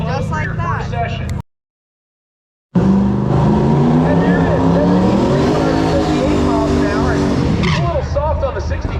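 A drag racing car makes a pass down the track at Sick Week. A loud, sustained engine roar climbs in pitch through the gears after a brief gap of silence, with voices briefly heard near the start.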